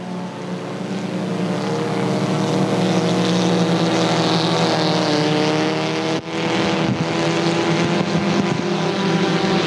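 Sport Compact race cars lapping a dirt oval at Thunder Hill during a heat race, a loud continuous roar of several engines blending together, with a short gap as one car passes, no talk audible.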